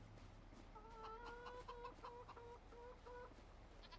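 Chickens clucking inside a chicken barn in the Farming Simulator 25 video game, a string of short, repeated clucks over a low steady hum, faint and fairly distant, with no voices.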